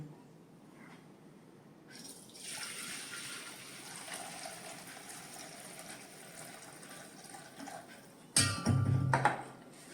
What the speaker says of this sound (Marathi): हे जे कोळथाचं पाणी आहे ते मी आता बाजूला हे काढून घेते ओतून